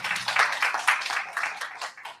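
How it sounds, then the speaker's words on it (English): Audience applause at a student union election results announcement for candidate Azhar, a dense even patter of many hands clapping at moderate distance, tapering off at the end. "Again, if we have a round of applause for Azhar."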